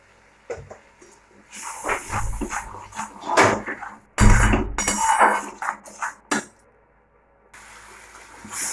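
Cumin powder, turmeric powder and salt hit hot oil, giving loud sharp hissing bursts with metallic clinks and short quiet gaps between them.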